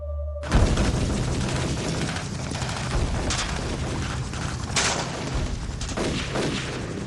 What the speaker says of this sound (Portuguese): Havia cada vez mais tiros de armas automáticas e cada vez mais disparos de granadas